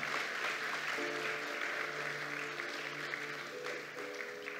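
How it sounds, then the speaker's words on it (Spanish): Congregation applause during a church sermon: a steady, fairly quiet wash of clapping from a crowd, with sustained organ or keyboard tones underneath and no talking. "puede aplaudir, claro que sí, pastora Yonalana."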